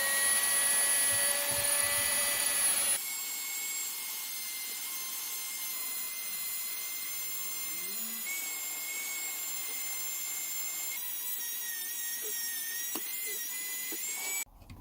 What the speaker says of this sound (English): I'm going to polish these frets up before we go any further